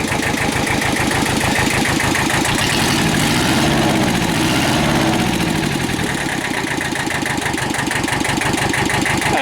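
A Kubota tractor engine idles close by after an oil change and coolant top-off, following a low oil pressure repair; a loud, continuous, evenly knocking rumble with a brief surge partway through.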